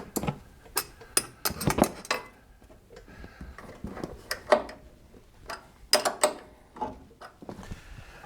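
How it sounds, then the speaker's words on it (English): Rapid ratcheting clicks come in bursts as a wrench tightens the top shock absorber bolt on a Chevy truck's front suspension, close and sharp with brief pauses between strokes. "And we're gonna tighten down the top bolt."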